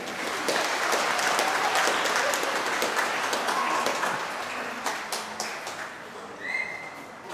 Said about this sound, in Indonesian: Kasih aplaus untuk mereka.